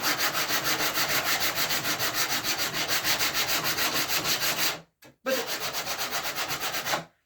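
A wooden horse bow is sanded by hand in fast, steady back-and-forth strokes, a loud, close, rhythmic rasp that breaks off briefly before resuming.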